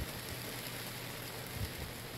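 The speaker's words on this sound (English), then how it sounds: "So much rain." Steady rain pours down, a constant hiss of drops hitting a surface with no voices.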